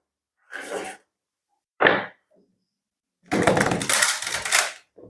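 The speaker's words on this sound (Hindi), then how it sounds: "सबसे पहले मैं आपके लिए कार्ड शफल कर लेती हूँ" Playing cards are shuffled by hand for a card reading: two short rustling bursts, then a longer, louder riffling flurry, with quiet gaps between them and no speech.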